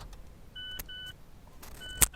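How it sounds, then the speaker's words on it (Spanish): A Mazda 2 Skyactiv door-open warning chime sounds inside the car as two short electronic beeps and then a third, over a quiet cabin, followed by a sharp click near the end. "Me dice que la puerta está abierta, ese es ese ruido."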